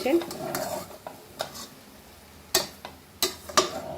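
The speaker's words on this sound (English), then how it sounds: "Mix करा बरोबर." Pork xacuti being mixed with Xacuti masala powder in a pan, a handful of sharp scraping and clinking spoon strokes spaced irregularly over a faint steady sizzle, close and moderately loud.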